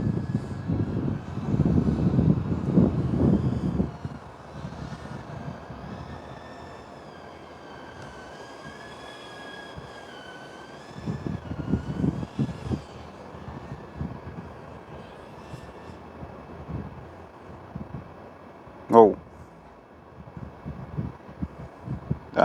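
An LDARC Tiny Whoop quadcopter drone's motors whine thinly and waver in pitch while gusts of wind rumble and buffet the microphone, loud at the start and again midway. A sharp click comes near the end.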